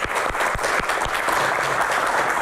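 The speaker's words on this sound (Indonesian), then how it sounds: "Tepuk tangan. Terima kasih para panelis." Audience applause for panelists at the close of a doctors' association Q&A forum, steady loud clapping from a crowd with a few sharp individual claps standing out, brief and unbroken.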